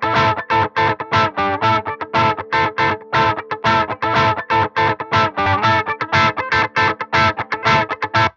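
Electric guitar played through a Telefunken DI box in a tight, rhythmic chugging riff, bright and slightly distorted, with sharp staccato picked notes separated by short gaps, close and alone with no talking.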